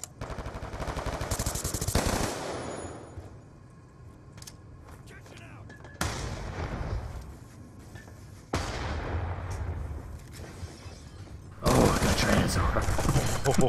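Rapid automatic gunfire and bursts of shooting in the video game Black Ops 2, loud stretches broken by abrupt cuts and quieter gaps, with players talking over the action.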